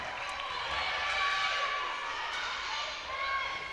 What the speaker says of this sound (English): And the crowd literally went wild at that.